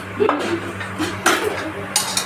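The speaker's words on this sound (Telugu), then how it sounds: "ఇప్పుడు మా మేడం గారు వేసుకుంటున్నారు ప్లేట్ తీసుకొని" Plates and dishes clink and clatter as food is served at home, several light knocks and scrapes close by, with faint background noise.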